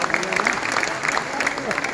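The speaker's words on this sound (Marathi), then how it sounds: "आपण सगळ्यांनी टाळ्या वाजून पहिले आपल्या खरगे साहेबांचं जोरात स्वागत करा" A hall audience claps to welcome Congress leader Kharge at a Rajiv Gandhi birth anniversary event in Shanmukhananda Hall, Mumbai, a dense ongoing round of applause with a voice talking over it.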